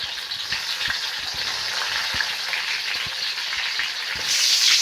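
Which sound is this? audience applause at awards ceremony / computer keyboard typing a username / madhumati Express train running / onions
onions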